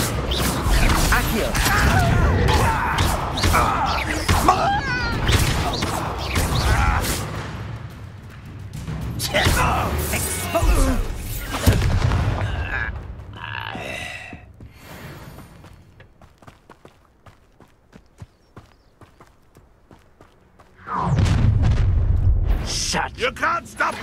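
Repeated Confringo spell explosions erupt during combat against goblins in the Hogwarts Legacy video game: dense, loud booms and crashes in bursts, a quieter lull with scattered clicks, then another heavy blast, with shouted voices mixed in.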